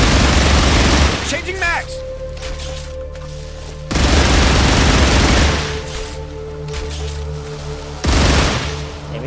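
Rapid gunfire from the sci-fi video game StarRupture, loud sustained bursts of automatic shots in three long volleys with a brief electronic rising tone between, while a player talks over it.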